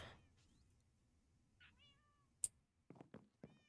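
A house cat meows in a few short, faint calls at close range, interleaved with small clicks and brief rustling noises in an otherwise quiet room.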